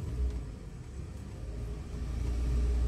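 A Suzuki Karimun's engine revs while the clutch is let out, giving a steady low rumble that swells gradually louder toward the end, close by with no talking.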